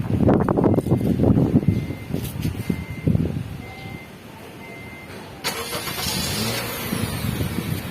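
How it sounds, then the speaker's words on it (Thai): A Honda Jazz fitted with a push-start button is started by remote: a few short electronic beeps are followed by the engine cranking, catching and settling into a steady idle nearby. "กดครบห้าวิแล้วปล่อยได้เลยออโต้ล็อก สตาร์ทเครื่องอัตโนมัติ"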